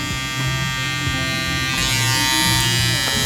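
Electric hair clippers buzz continuously while cutting a taper fade, a steady close-up motorized hum with small shifts in pitch as the blades glide through hair.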